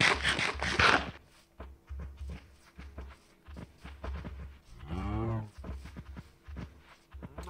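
Cows mooing in modded Minecraft 1.20.1, several low drawn-out moos close by alongside rhythmic footstep-like thuds and a brief rustle at the start.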